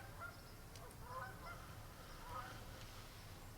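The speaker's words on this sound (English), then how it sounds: "it's getting quite a duck show." Ducks call at dawn by a creek. Faint honking quacks come and go over a low background hum, distant and quiet throughout.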